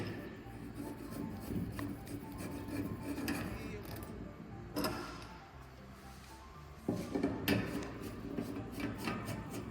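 Upright poles of a silver 5-tier metal storage shelving rack are threaded together by hand, giving close, continuous rubbing and grinding scrapes with a few sharper knocks and clicks partway through, and no talking.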